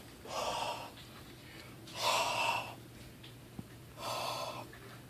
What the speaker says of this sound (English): I'm going to simply breathe on the sensor to turn on the CO2